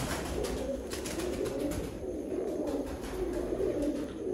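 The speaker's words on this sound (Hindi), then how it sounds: "ऐ सियालकोटी कबूतर" Sialkoti pigeons cooing softly at a loft in Sialkot, a faint, repeated low coo over a steady background hiss, with no voices present.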